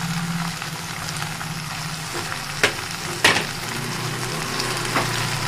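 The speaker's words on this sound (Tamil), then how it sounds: "இதுலேயே புதினாவையும் போட்டுக்கலாம். நல்லா புதினா வதங்கணும்." Mint leaves sauté in a pan with curry leaves, coriander and tamarind for mint chutney, a steady low sizzle and bubbling broken by a couple of sharp scraping clicks from stirring.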